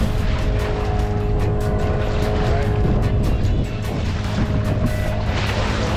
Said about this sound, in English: We got Robin and Dylan back there running the engine.